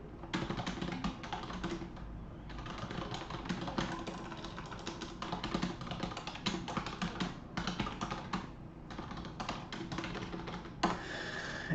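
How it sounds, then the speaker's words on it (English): Fast typing on a computer keyboard, a steady dense run of key clicks that carries through nearly the whole stretch with only brief pauses, close and fairly loud, no voices. "Let me just type this in real quick."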